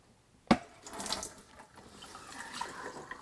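Water drains from the pulled drain plug of a Frigidaire compact bullet ice maker into a sink or bowl, starting with a sharp splash then a faint, steady trickle and patter.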